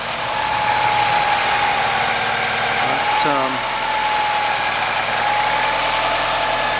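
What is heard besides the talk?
Alfa Romeo Twin Spark engine idling, slightly hunting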